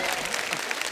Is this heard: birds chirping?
no